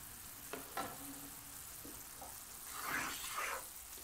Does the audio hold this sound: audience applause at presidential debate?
no